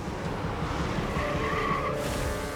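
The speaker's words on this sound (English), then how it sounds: "a woman plows her car through the window," Car plowing through a bakery window in a 2004 crash, heard as a continuous loud skidding, rushing roar with tire squeal and no voices.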